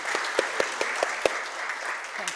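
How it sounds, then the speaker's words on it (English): A conference audience at a design summit applauding its speakers, a dense burst of clapping with a few sharp individual claps standing out near the start before it thins toward the end. "please give the speakers the applause."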